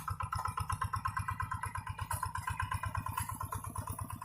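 A Quick tractor engine plowing a wet rice field chugs in a steady, rapid rhythmic beat, moderately close and somewhat faint, running alone without voices.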